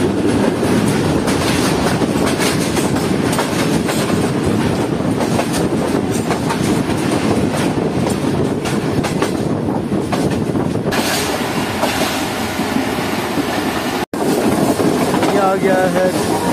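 The Shah Hussain Express runs on the rails with a loud, continuous rolling roar and rhythmic wheel clatter, heard from on board with wind buffeting, then a brief cut and faint squeals near the end.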